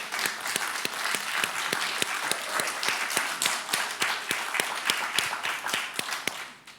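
Applause from an audience at a live panel event on democracy and human rights, a steady wash of many hands clapping with a few sharper nearby claps standing out, continuous for several seconds before tapering off at the end.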